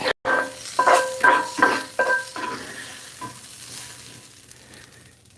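Onions frying in a hot pan while making salsa, giving a loud crackling sizzle in several bursts over the first two seconds, then fading to a quieter, steady hiss with no talking.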